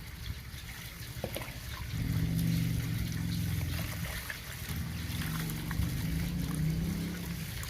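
Water is poured into a cup holding lotus seeds, a close, steady trickle that swells to a fuller pouring rush and continues for several seconds without speech.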